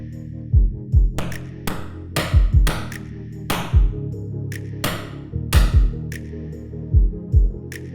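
Sharp metallic knocks of a hammer striking a toy land in irregular pairs and clusters, each hit ringing briefly, close and fairly loud with short pauses between strikes.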